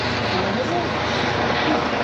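Steady rumbling rotor and engine drone from an aircraft overhead, continuous throughout, with faint background voices.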